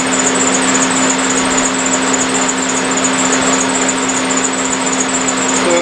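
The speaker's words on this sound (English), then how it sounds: "now I'm connecting the compressor to my adaptation rig, and the proprietary hose" An air compressor runs at a steady, loud drone while inflating a paddleboard through an adapter rig and hose, with a constant high whine and no pauses or voices.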